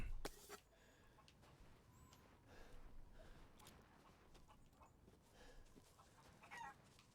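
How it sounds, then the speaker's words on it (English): Chickens clucking in a village-building video game, scattered short clucks and calls over a quiet ambient background, with a few louder bursts at the start and near the end. "You little chickens can get to live today."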